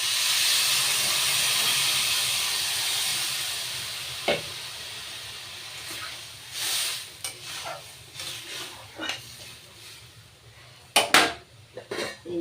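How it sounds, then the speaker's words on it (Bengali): Water is poured into a hot pot of dalia khichuri, setting off a loud sizzling hiss of steam that gradually fades. Scattered clinks of a utensil against the pot follow. "এইবার পরিমাণ মতো জল দিয়ে দেবো।"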